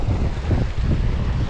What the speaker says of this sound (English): Freaking wind is nasty.